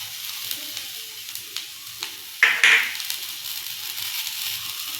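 Cashew nuts sautéing in a pan with pepper powder, a soft steady sizzle with a few louder scraping stirs near the middle, no talking.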